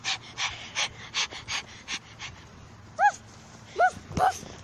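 A small dog gives a few sharp, close barks near the end, after a stretch of rhythmic heavy panting, with a person hushing it.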